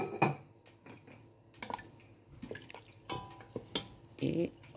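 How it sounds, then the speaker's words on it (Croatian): Pot clatters and a few scraping knocks as chicken paprikash is stirred in a cooking pot and hot water is added, with scattered clinks and drips, moderately close in an otherwise quiet kitchen. "To ću malo promešati, smanjit ću temperaturu, dodat ću vruće vode da meso ogrezne."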